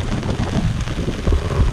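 Rain falls on a boat out on the water off Miami, a short burst of spattering drops mixed with gusty wind rumble against the microphone, loud and close, with no voices.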